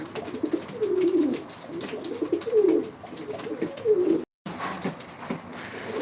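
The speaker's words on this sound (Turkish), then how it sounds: "Dostlar kuşları şöyle kısa öz tanıtalım." Ankara play pigeons coo in deep, rolling calls that repeat in a steady rhythm, close and clear, with one brief dropout near the end.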